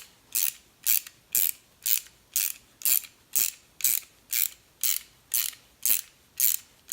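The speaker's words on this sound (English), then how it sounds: "press the bearings into the link" Nuts being tightened with a ratchet to press bearings into a Santa Cruz bicycle suspension link, giving a regular series of about a dozen crisp clicking ratchet strokes, close and evenly spaced, with no talk.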